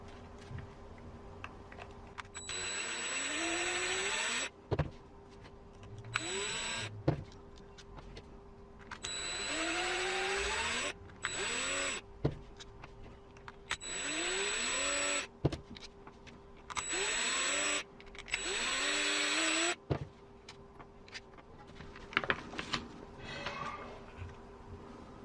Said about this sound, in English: To open the transmission housing, you'll need to remove these 5 screws.